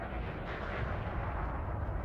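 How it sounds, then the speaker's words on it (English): An explosion in the space game Elite: Dangerous, a deep, rumbling low boom that swells and rolls on without a sharp onset, fairly quiet and with no voices. "That one. was an explosion."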